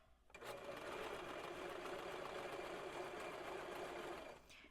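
A sewing machine stitches steadily around the curved edge of a pocket on a shirred dress, its fast, even motor hum running unbroken for about four seconds with no talk.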